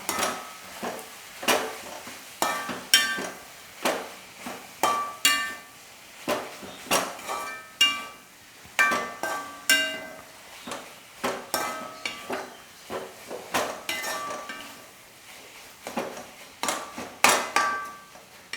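A spoon clinks and scrapes against a bowl while grated coconut is mixed into rice dough for Kerala-style steamed banana leaf ela ada. The sharp clinks repeat in a steady, uneven rhythm, close and fairly loud, with no talking.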